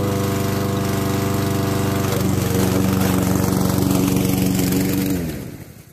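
A running gasoline combustion engine, a loud steady droning hum with a strong rhythmic throb, holding level for about five seconds before cutting off and dying away.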